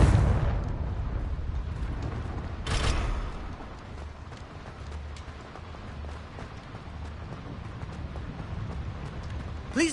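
Confringo explosion spell going off in the video game Hogwarts Legacy, a loud burst at the start, a second sharp blast a few seconds later, then rumbling game ambience and another burst at the end.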